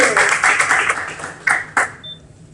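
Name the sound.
applause for Maddie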